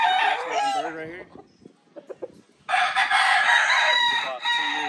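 A Hatch Grey rooster, about two years old, crows loud and close in a long harmonic call, then a few soft clucks follow before a second sustained crow rings out.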